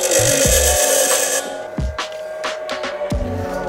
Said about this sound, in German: Hier gleich mal einen Schleifbock und kürze die mal kurz